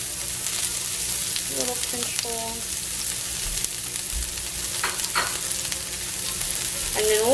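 Onions and bell peppers sizzle steadily in a pan while being stirred, with scraping strokes and a voice talking briefly over the frying.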